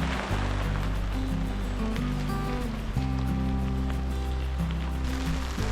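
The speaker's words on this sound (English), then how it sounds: "And this is a good soaking rain." Heavy soaking rain pours down steadily in the Colorado wilderness, a dense continuous hiss with a low steady hum beneath it.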